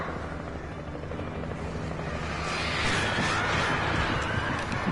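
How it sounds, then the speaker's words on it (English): A helicopter in the video game Alan Wake flies away, a sustained broadband whirring roar that swells louder partway through and then holds steady, with no voices over it. "Goodbye, helicopter, and I guess Barry and Sheriff Breaker."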